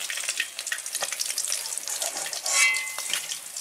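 Papaya pieces frying in a pan for a Bengali chorchori, a steady close sizzle with a few soft stirring scrapes and a brief louder crackle near the end, no voices.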